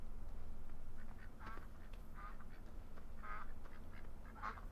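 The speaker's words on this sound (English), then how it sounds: "these are the ducks, geese flying overhead" Ducks or geese quack in Farming Simulator 15 on the County Line map, a few separate calls passing over a steady low ambient hum, fairly faint and with no talking.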